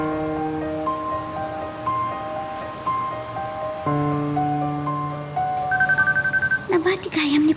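A father's cellphone ringing with a looping melodic ringtone, repeating steady tonal phrases throughout, loud and near, with rhythmic bursts toward the end.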